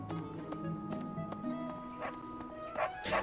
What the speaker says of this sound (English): I hear a doggy.